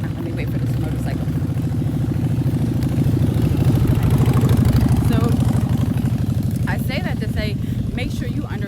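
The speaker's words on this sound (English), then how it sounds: "Let me wait for this motorcycle." A motorcycle goes by with a loud, low, throbbing engine rumble that swells to a peak and then eases away, close to the listener, while voices chatter faintly near the end.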